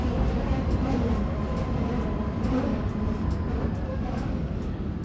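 A T3R.P tram in the SIMT simulator rumbles steadily as it slows through a sharp curve, a continuous low rolling drone with faint metallic ticks and squeal, loud and constant throughout with no talk.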